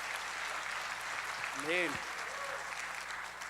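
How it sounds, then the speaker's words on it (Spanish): Church congregation applauding during a Spanish-language worship service, a steady broadband wash of clapping throughout, with a voice briefly speaking over it near the middle. "aplauso a la presencia de Dios que está aquí con nosotros"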